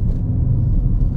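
Wuling Bingou electric car climbing a mountain incline, a low, steady close rumble of tyres and road noise with little motor whine, brief and without speech.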